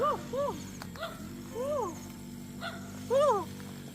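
A dog gives a few short, rising-and-falling yelping barks in a rural meadow setting, fairly close and spaced irregularly over a low steady hum, with possible faint voices.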